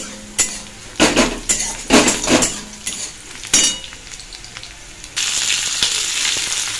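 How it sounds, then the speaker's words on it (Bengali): Potatoes and onions sizzle and fry in a pan for Bengali egg curry, with metal utensil clinks and scraping stirs in bursts, then a steadier, louder sizzle toward the end; no talking. "ডিমের ঝোলের জন্য আমি আলুটাও দিয়ে দিলাম পেঁয়াজের মধ্যে।"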